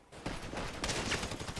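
Dense, continuous gunfire in GTA Online, a sustained volley of overlapping shots that swells after a short quiet start and holds at a fairly loud level without talk.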